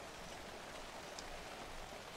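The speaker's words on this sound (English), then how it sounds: "the rain's picking up" Steady rain falls in the horror video game Alan Wake II, an even, broadband hiss of drops that stays at a constant low level for the whole stretch, with no talk.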